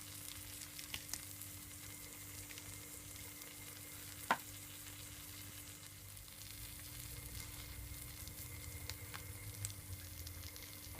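Bacon and cheese sandwich with bread pressed down in a pan, frying with a steady, quiet sizzle and faint crackles throughout, plus one sharp click midway.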